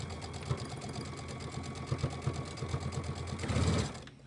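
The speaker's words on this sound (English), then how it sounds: "I'll stitch these down first" A sewing machine stitches down a washcloth with a fast, steady mechanical whirr and rhythmic needle clatter, close by, swelling briefly louder near the end before stopping.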